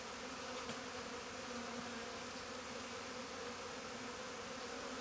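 Honeybees buzz around an opened beehive during hive work, a dense continuous hum that stays steady and fairly close throughout, with no one speaking.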